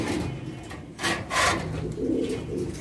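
Fancy pigeons in a pigeon loft give soft, low cooing calls in a few short bursts, with light rustling and scraping close by.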